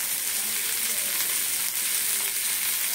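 Turmeric, salt and Kashmiri chili powder frying together in a pan, a loud, steady, dense sizzle that holds without a break, with faint stirring beneath it and no talk.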